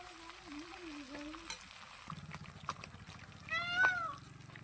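Fish frying in oil in a kadhai makes a soft, steady crackle close by, while a cat meows several times over it, most loudly near the end.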